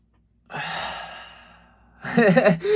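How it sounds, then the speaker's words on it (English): A single deep, audible breath taken slowly and released like a long sigh, close and clear, followed by a second sharper breath, with no talking. "Breathe extremely deeply like this."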